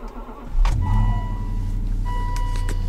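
A car engine cranks and catches at minus 21 degrees on a gel battery, a loud burst of starter noise settling quickly into a steady, close idle hum with no voices.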